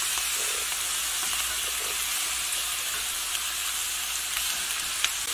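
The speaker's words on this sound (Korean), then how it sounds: "양파 썰은 거를 넣어줘요" Sliced onion and garlic frying gently over low heat in a pan, a steady close hiss of sizzling with faint occasional clicks, no voices.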